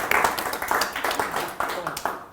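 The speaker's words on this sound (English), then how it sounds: "A big round of applause for Pat on that one, I think." A small audience applauds for Pat, brisk close clapping with distinct individual claps in an uneven rhythm, lasting a couple of seconds with a voice speaking over it.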